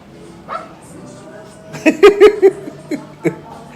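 A small dog yips and barks in a quick cluster of four or five sharp barks, close and loud, followed by a couple more, with a person's voice nearby.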